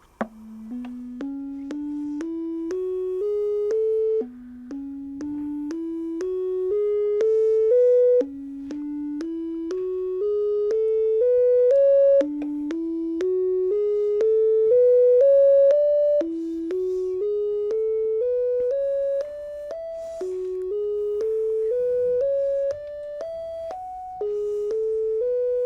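Synthesized tones step upward through musical modes in sequence, each run of eight clear notes climbing, then restarting on a rotated scale, repeated for several runs.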